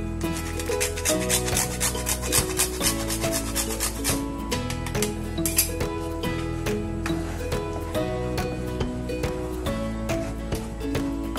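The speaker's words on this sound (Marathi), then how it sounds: "जायफळ पण किसून घेऊ पर्यंत" Whole nutmeg grated for a Marathi cashew sweet (kaju vadi), giving a run of repeated rasping strokes at an even pace, close by and partly masked by steady tonal background music.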